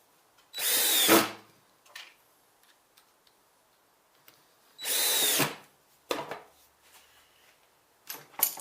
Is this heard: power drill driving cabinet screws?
yes